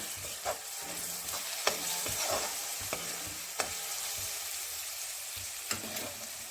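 Grated coconut, pepper and chickpeas sauté in oil in a pan with a soft, steady sizzle, broken by occasional sharp clicks and scrapes of a spoon against the pan.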